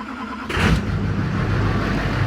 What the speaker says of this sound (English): So I don't need to let the truck run, but I started it